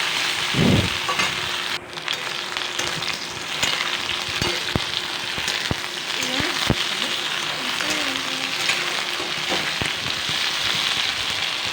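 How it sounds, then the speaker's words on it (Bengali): Okra fries in a pan for a Bengali mustard dish, a loud, steady sizzle throughout, broken by occasional scrapes and knocks as it is stirred. "আমি এখন ভেন্ডিটিকে নাড়াচাড়া করবো নাহলে তলে লেগে যেতে পারে"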